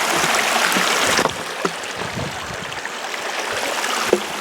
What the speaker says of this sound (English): Look at this nice stream.